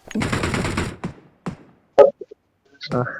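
Gunfire in the video game PUBG opens with a sustained burst of automatic fire, followed by a few separate sharp shots and thuds. The shots are loud and near.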